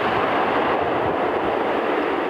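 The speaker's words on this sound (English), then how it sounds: "The noise from planes taking off and landing during the day and night has annoyed neighbors." Steady, loud roar of a jet aircraft near New Haven airport, a broad continuous rumble filling the whole stretch without pause or voices.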